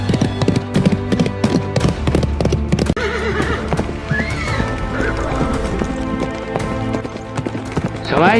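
Horse hooves clip-clop steadily as a rider charges into battle, with neighs and whinnies rising over a dense, busy mix and a voice speaking underneath throughout.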